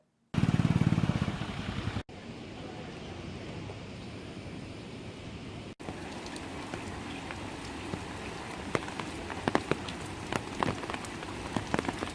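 Heavy, steady rain pours down during flooding at the submerged Vattuvagal bridge on the Mullaitivu–Paranthan A35 road, a dense continuous hiss with scattered sharper drops, loud and close throughout.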